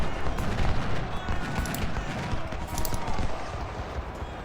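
Musket volleys in Ultimate General: Civil War, a dense rolling crackle of many rifles firing in a distant battle, continuous throughout.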